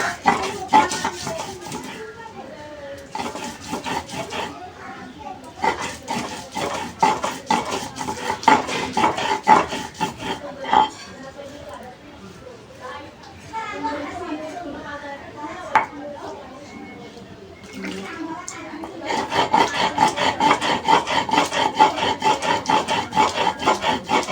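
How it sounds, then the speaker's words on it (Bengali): Chili and ginger are ground into a paste on a grinding stone, heard as rhythmic rasping strokes of stone on stone in repeated bursts, with a person talking over parts of it. "ঝাল বাটিছি তাই জন্য আদাটা লাল হয়ে যাচ্ছে"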